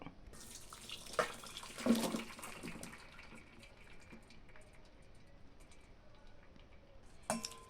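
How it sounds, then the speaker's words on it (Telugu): Water from boiled carrots pours out through a strainer into a sink, a close splashing gush with a few metallic clinks at the start that settles into a steady trickle. "నీటిని పోయేటట్టు వడగట్టుకోవాలి."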